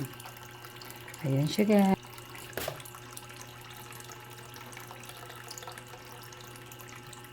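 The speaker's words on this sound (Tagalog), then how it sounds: "Nagsasahod tayo ng tubig" Tap water runs steadily into a container at a modest, even level, with a short burst of a woman's speech partway through and a faint clunk afterward.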